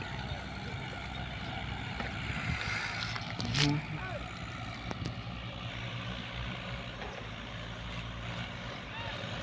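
Several tractor engines at a sand-loading site rumble and drone steadily together, a loud continuous mechanical noise with a brief louder burst partway through.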